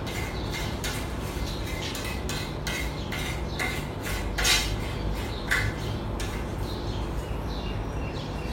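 A knife scrapes congealed grease off a pan in a kitchen, giving repeated short metallic scrapes in an uneven rhythm, close and fairly loud over a steady low background hum.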